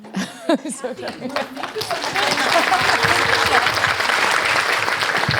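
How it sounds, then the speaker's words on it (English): A room full of people at a panel discussion breaks into sustained applause that swells and holds steady, with some laughter and chatter mixed in at the start. "We give a round of applause not just to the panelists and Kathy, but Grace."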